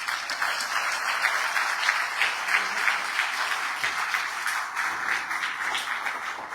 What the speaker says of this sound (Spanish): Grandes aplausos para el maestro Mario Amoretti Pachas